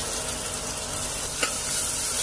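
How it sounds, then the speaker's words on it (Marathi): Stuffed brinjal with its masala frying in hot oil, a steady close sizzle throughout with one brief utensil knock midway and no talking. "तो पहिला तेलात फ्राय करून घेते"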